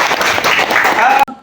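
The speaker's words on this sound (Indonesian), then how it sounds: "Oke, tepuk tangan untuk kakak." Brief applause in a high school English classroom, a burst of sharp mixed claps from a group of students, close and loud, cut off abruptly after about a second.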